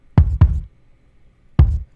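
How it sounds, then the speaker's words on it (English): Three thumping kick drum hits, two close together and one after a pause, each a deep, boomy low thud with a short decay. "This is my kick sample that I created basically the whole pattern with."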